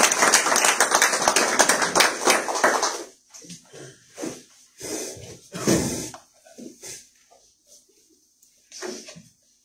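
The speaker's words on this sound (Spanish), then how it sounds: "Por favor, reciban un aplauso" An audience at a talk on earthquakes, tsunamis and ports applauds a speaker being introduced, a dense burst of clapping for about three seconds that thins into scattered, fading claps with pauses between.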